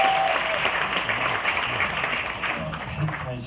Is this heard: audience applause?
yes